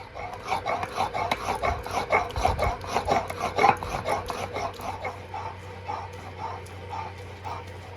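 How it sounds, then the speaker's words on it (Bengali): Spices are ground by hand on a stone pata shil slab, with a steady back-and-forth rasping rub of stone on stone repeating in a quick, even rhythm, close and fairly quiet. It slows and softens toward the end. "তো পাটা শিলে বেটে নিচ্ছি"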